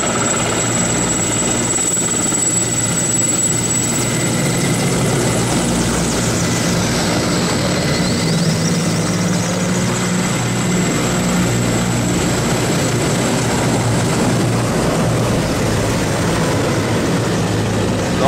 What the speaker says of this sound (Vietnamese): Và bây giờ thì đội hình trực thăng đang đồng loạt bay tiến về phía trước.